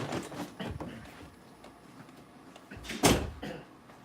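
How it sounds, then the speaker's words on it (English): A door shut quickly indoors, giving one sharp close thud near the end amid low room noise and soft earlier rustles, with a voice nearby. "I had to shut my door real quick."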